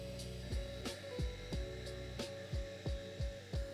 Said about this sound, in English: Started up the air compressor just in case I need it